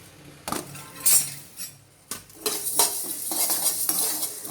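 Fenugreek and coriander seeds are dry-roasted and stirred in a hot kadai for a South Indian tamarind rice paste. Scraping and rattling of the seeds against the metal pan comes in irregular bursts, close, with no talk.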